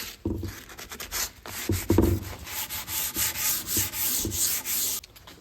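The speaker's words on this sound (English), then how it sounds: "give this one more slight hit with the sandpaper just to make sure it's nice and smooth" Sandpaper rubbed back and forth over a wooden axe handle, close and clear, in a steady series of rasping strokes of even rhythm, with no talking.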